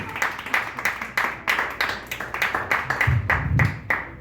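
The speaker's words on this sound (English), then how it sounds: "Clap it up for the comedy scholars of Bobby Cook." Comedy club audience applause, a dense steady patter of many hands clapping close by, with a few louder bursts and some low crowd noise underneath.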